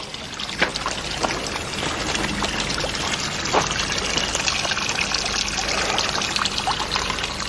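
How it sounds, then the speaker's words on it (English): A small stream trickles and splashes steadily, its muddy water running in a continuous close wash of bubbling sound with no voices. "as far as I can tell, it just looks like a normal stream"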